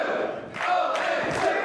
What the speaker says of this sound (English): You hear the crowd chanting 0-2, mocking his record here in the past here in this very building